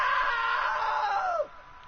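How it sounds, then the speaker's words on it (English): A woman's high-pitched scream from the video game What Remains of Edith Finch, a single sustained cry of about a second and a half that wavers and then drops sharply in pitch before cutting off into quiet room tone. "Okay, that was a great scream."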